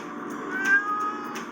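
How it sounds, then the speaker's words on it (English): Ralph, a pet cat, gives drawn-out, plaintive meows close by, several in quick succession over a soft background hiss. "And then he meowed some more when I let him out again"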